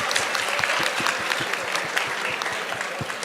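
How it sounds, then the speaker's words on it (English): Steady applause from an audience at an academic Amrit Kaal Vimarsh event on technology and innovation, dense clapping filling the hall without pause. "please give a huge round of applause for the wonderful audience"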